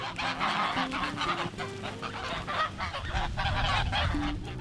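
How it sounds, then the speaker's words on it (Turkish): A flock of geese honking loudly and continuously, overlapping calls filling the scene with a busy, close-up clamor. "Erkek ve dişi kazla uçarken ya da tehlike karşısında korna andırır bir sesle ötüşür."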